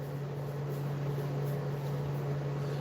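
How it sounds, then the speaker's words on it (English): A steady electric fan hum with a low drone and soft airy whoosh, constant throughout with no voices. "Sorry about the fan."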